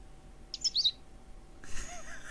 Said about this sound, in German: Der Vogel ist die ganze Zeit dasselbe. Ach so, Chip Chip?